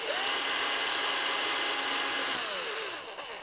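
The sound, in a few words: power drill driving screw into holes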